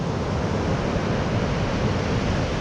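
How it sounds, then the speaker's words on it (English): Ocean surf breaks steadily on a beach along the New South Wales south coast, a dense, continuous wash of waves with no talking over it. "in between those two spots where those waves are breaking, that's your gutter"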